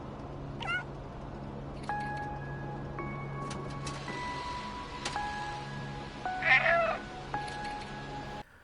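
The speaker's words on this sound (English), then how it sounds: "your meow interacts with the environment" In the video game Stray, a cat meows near the start, followed by a string of soft chiming interface tones and one louder, drawn-out meow, over a quiet ambient hum with no talking.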